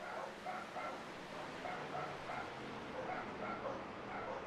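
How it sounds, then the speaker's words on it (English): Dogs yapping and whimpering excitedly in the background, a steady series of short, fairly faint barks and yips running throughout, with no talk. "can you guys hear my dogs going nuts, Jer?"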